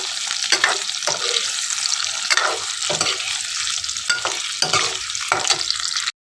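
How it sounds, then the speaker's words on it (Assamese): Potatoes frying in a pan while an omelette curry is prepared, a steady loud sizzle broken by scraping stirs every second or so, the hiss cutting off abruptly at the very end. "আলুখিনি ফ্ৰাই কৰি আছোঁ"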